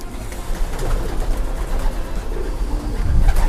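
Pigeons cooing inside a racing pigeon loft, a steady layer of soft, low throaty coos and bird calls running throughout at moderate volume, growing slightly louder toward the end, with no talking.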